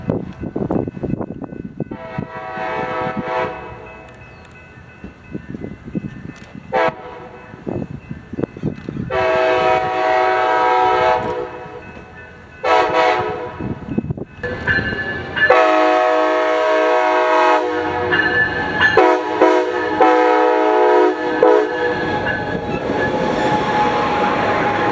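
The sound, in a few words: Coaster commuter train 679 led by SC44 Charger 5005 locomotive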